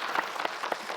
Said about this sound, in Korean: 먼저 가신 분들을 위해서 한번 박수, 감사의 박수 한번 쳐주시면 감사하겠습니다.